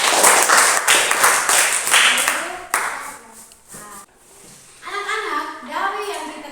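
Children in a classroom clapping together in a quick burst of rhythmic claps, then fading as a voice and other young voices speak over the last few seconds.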